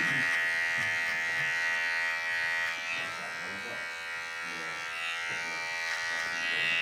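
Electric hair clippers trimming a low fade at a barbershop, buzzing steadily and closely throughout at a constant pitch, with some faint talk underneath.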